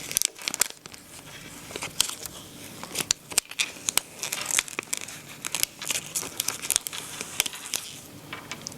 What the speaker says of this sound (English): I'm going to start weeding away the excess material for my pattern heat transfer vinyl.